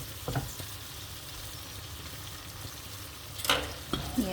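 Ingredients fry in a pan until light brown before tomato sauce goes in, giving a steady close sizzle with a few stirring scrapes and clinks near the end.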